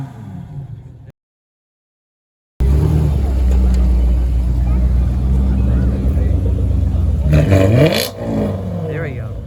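Ferrari mid-engine V12 supercar at a car meet, its engine droning loudly and steadily after a brief silence, with a rising rev swell near the end.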